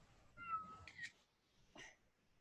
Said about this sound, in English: I have two cats, one of which is right here, which is Marie.